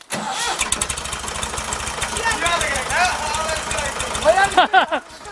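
An engine turns over and fires into a fast, chugging mechanical rattle close by during a goalpost installation, while people shout and talk over it.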